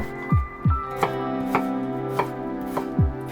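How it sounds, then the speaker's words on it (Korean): Potatoes being chopped with a knife on a cutting board for an oatmeal cream chowder, with sharp chopping thuds coming in an irregular series at close range and no talking. "감자도 양파랑 비슷한 크기로 잘라주시고"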